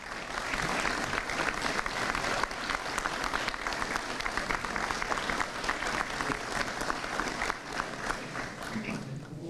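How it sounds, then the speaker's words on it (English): A big round of applause from the audience at a high school football banquet, many hands clapping in a steady, lively roar that holds strong for nearly ten seconds. "we just need to stand up and give everybody a big round of applause."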